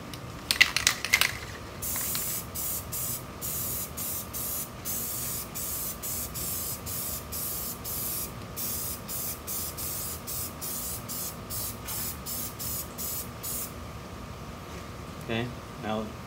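Aerosol spray paint applied as a second coat onto PVC plastic, heard as repeated short hissing bursts in a steady rhythm, close and fairly loud, with brief speech at the start.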